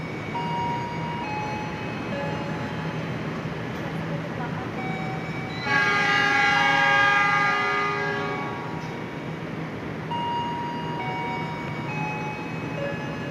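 Low, steady rumble of the KA Argo Muria passenger train between Semarang and Jakarta, Indonesia, then a loud, sustained locomotive horn blast for several seconds midway before the rumble carries on.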